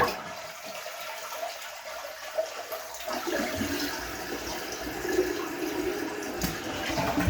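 A toilet flushes after a tank repair, starting with a short quiet stretch before a loud gushing rush of water that keeps swirling and draining close-up for several seconds.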